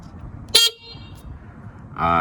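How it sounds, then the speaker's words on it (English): A short, sharp electric motorcycle horn beep sounds once, followed by a quiet moment and then a second honk starting near the end, over low background rumble. "They got this little meaty ass horn."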